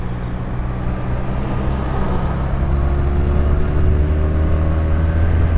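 A city bus in traffic, heard as a steady low engine rumble with road noise that grows slightly louder as it draws close, with no talk over it.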